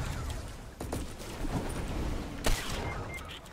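Gunfire in the video game Fortnite, a few scattered shots and bursts over a steady game background, with one sharper report standing out near the end.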